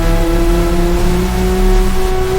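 A Yamaha YZF-R1M's 998 cc inline-four crossplane-crank engine runs loud and close, a steady sustained drone with a slight rise in pitch over a couple of seconds, no voices.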